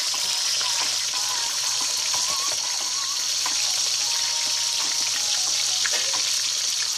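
Halibut fish frying in a pan for sweet and sour fish, with a steady, close, loud sizzle of hot oil that runs unbroken and alone, with no talking.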